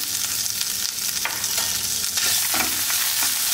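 Ginger and garlic sauté with cumin in a spoonful of oil in a pan over medium flame, giving a steady close sizzle and fry hiss with occasional stirring scrapes throughout, no talking.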